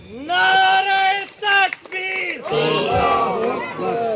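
A crowd at a Malir cantonment board election rally chants slogans in loud, rhythmic call-and-response bursts, voices ringing together in sustained shouts with short breaks between phrases.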